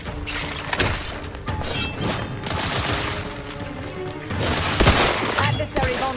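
A sustained firefight in The Outer Worlds 2, dense rapid gunshots with crashes and impacts running almost continuously, loud and close, with a voice partly mixed under the shooting.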